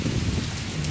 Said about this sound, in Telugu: ఇంత భారీ వర్షం పడటం వల్ల